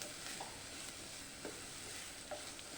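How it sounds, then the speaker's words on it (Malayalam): Chopped carrots with green chillies sautéing in a pan for samosa filling, a steady close sizzle broken by a few soft stirring scrapes, no voices. "ചെറുതായിട്ടരിഞ്ഞ ക്യാരറ്റ് ഇട്ട് കൊടുക്കാം. അതും ഇട്ട് നല്ലതുപോലെ ഒന്ന് വഴറ്റിയെടുക്കാം."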